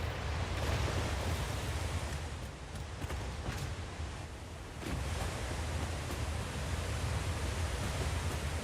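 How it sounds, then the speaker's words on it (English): Loud, steady waterfall ambience in a video game about upgrading from biomass to coal power, a continuous broadband rush that dips slightly midway and then holds, with no speech. "Waterfall loud."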